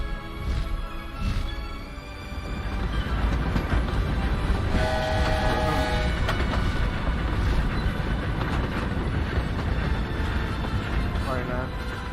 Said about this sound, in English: There's the Hogwarts Express. Must be returning from an unscheduled run.